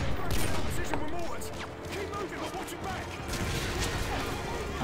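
Gunfire in the video game Call of Duty MW2 sounds as dense, continuous bursts of shots and rattling mechanisms, with talk mixed in.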